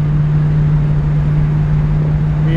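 A 1977 Chevrolet Camaro cruises at highway speed on the road, giving a steady loud engine drone with a strong low hum and constant road rumble, unbroken and close.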